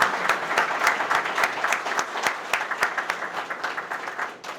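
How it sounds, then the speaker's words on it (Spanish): A crowd at a political leaders' meeting applauds, with distinct individual claps standing out from a continuous wash of hands that slowly thins and fades over several seconds. "le demos un aplauso, ¿verdad?"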